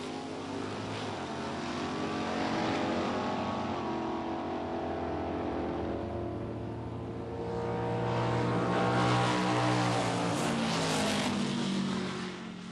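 Two 1960s drag cars, a 1963 Plymouth Savoy Hemi and a 1963 Ford Galaxie, roar down the strip with sustained loud engine drone, rising and swelling as they pass, heard from a distance.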